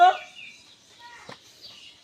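A black chicken gives a brief cluck at the start, followed by faint, soft bird calls in a quiet setting.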